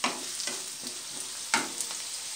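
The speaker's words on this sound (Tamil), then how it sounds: "கருவேப்பிலை ஓகே நல்லா ஃப்ரை பண்ணிக்கலாம்." Onions and curry leaves frying in oil in a pan for a brinjal curry, giving a steady close sizzle with a few scraping stirs.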